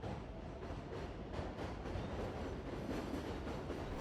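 A metro train runs through a station, with a steady rumbling roll and rhythmic clicking of wheels over rail joints, at moderate volume without voices.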